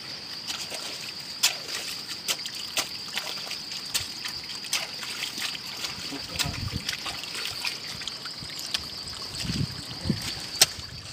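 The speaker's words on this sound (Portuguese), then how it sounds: "Todo canto que eu olhar aqui desce água" Water trickles and drips steadily nearby, with scattered splashes and a constant high hiss of flowing water throughout.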